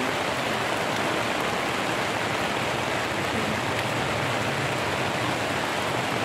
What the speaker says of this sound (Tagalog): Naabot na kami ng ulan.